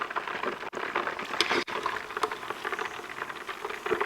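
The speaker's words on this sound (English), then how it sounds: "That's the moisture inside the oil that's come from the beef" Shredded beef bubbling hard in hot oil brought up to 180 degrees for its second fry, a close, dense crackle and fizz that runs steadily throughout with no voices.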